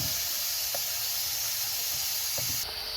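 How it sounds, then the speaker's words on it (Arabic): Chopped onion frying in oil in a pan gives a steady, even sizzling hiss that carries on without a break at moderate volume. "كما كتشوفوا هنايا عندي البصله كتشحر"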